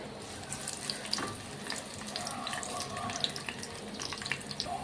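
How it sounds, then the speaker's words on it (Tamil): Garlic fries in a hot pan with a steady, soft sizzle and crackle, faint and close, with small pops scattered through and no talking. "இப்போ நான் கொஞ்சோன்னு இந்த மாதிரி பூண்டு வந்து ஆட் பண்ணிக்கிறேன். இதை நல்லா ஃப்ரை பண்ணிக்கிறேன்."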